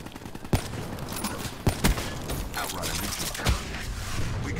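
Rapid bursts of gunfire in a shooting video game, loud and close, with several sharp shots standing out over a constant busy rumble of game sound.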